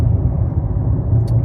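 A 2023 Kia Sportage cruises on rural back roads at about 55 mph, giving a steady low rumble of engine and road noise from inside the cabin, with no breaks.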